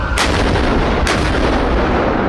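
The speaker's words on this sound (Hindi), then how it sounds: "उनको 21 तोपों की सलामी" Two booming artillery blasts from a gun salute, each a sharp loud report about a second apart, with a dense rumbling echo filling the space between.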